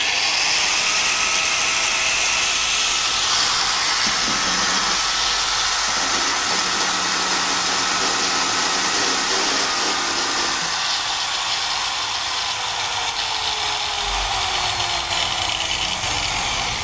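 A Stanley 750 W angle grinder runs steadily at its highest speed, a loud continuous whine with a shifting motor tone, sounding alone at close range throughout.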